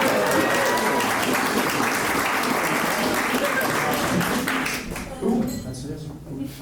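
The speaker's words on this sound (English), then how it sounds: "Well, give a round of applause for estheticians." Comedy club audience breaking into applause for estheticians, a thick sustained round of clapping with some crowd noise and talk mixed in, thinning out near the end.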